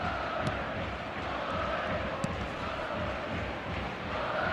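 Stadium crowd in an eFootball video game, a steady, distant roar of many voices with faint cheering swells, held at low level throughout.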